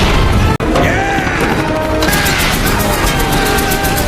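A loud, dense blast from a war film erupts as a plane explodes, with a sharp crack followed by sustained rumbling and crashing debris filling the whole stretch.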